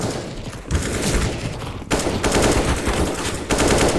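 Rapid automatic gunfire in the Counter-Strike video game, dense continuous bursts of shots that are loud and close, with brief breaks between volleys.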